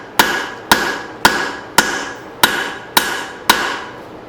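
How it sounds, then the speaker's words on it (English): A cross peen hammer strikes a hot axe head on the anvil to forge and widen it, seven sharp ringing blows at a steady, even rhythm, close and loud with no talk. "I'm using my cross peen. I'm going to try to widen"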